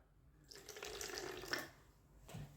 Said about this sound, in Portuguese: E em 2 ovos eu coloco 1/4 de água